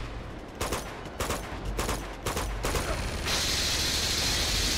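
Gunfire in Uncharted 2: several sharp, loud shots come in a rough rhythm, followed by a sustained bright hiss or rattle of continuous fire.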